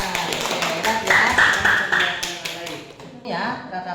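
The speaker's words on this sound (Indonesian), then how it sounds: "Oke, tepuk tangan." Classroom audience clapping, a steady patter of many hands at close range that runs under continuous talking and fades near the end.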